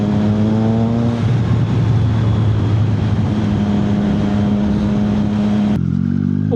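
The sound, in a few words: engine revving while upshifting gears without clutch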